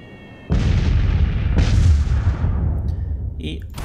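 Two heavy artillery shots boom in the video game Miner's Mettle, the first sudden and loud, the second close behind, each rolling into a long fading rumble.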